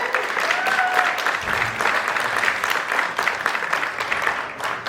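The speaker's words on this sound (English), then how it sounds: "Give yourselves a round of applause." A full audience applauds at a magic show, dense steady clapping filling the room for the whole stretch, loud and close with no break.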